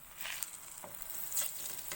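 Kol pitha frying in a pan and being turned, soft close sizzling with light scraping and patter, fairly quiet and brief.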